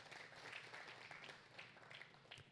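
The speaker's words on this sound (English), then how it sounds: "So one more round of applause for Central Bank." An audience applauds at an entrepreneur event, steady moderate clapping that holds evenly throughout with no speech on top.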